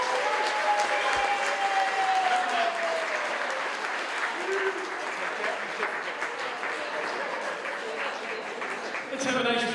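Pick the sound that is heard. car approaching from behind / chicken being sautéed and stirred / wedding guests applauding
wedding guests applauding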